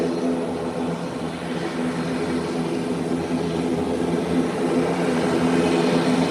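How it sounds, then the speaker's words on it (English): An ATR turboprop airliner taxis on an airport taxiway, a steady droning propeller hum with layered engine tones, continuous and fairly close, without voices. "Whilst the ATR 43 has entered the taxiway"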